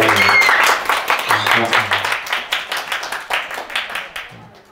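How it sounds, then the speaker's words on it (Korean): Audience applause at an entrepreneurship lecture: steady clapping from a crowd that thins and trails off into individual claps, with a voice briefly audible over it. "박수 한번 쳐주세요"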